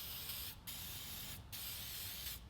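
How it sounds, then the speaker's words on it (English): An aerosol can of adhesive remover sprays onto a car emblem in three short, steady hissing bursts separated by brief pauses, close by and fairly quiet. "Then we're gonna go in here and spray it on the adhesive."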